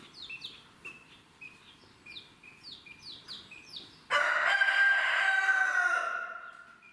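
A mother hen calling after her chicks, with repeated high chick peeps in quick runs, followed by a loud, sustained crowing-like call from the hen.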